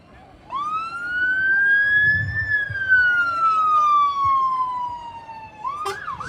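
A West Sussex Fire and Rescue Service vehicle arriving at a staged road traffic collision demonstration, its single long siren wail rising and then slowly falling, loud and fairly close, with faint crowd murmur underneath.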